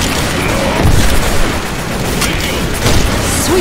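Gunfire in Left 4 Dead 2, several booming shots scattered through a dense, noisy stretch of combat, fairly loud and busy with mechanical clatter in between.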